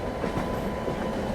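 An Amrit Bharat Express runs alongside the Sangam Express. A steady, loud rolling rumble of train wheels and carriages continues without a break, with faint clatter and no voices.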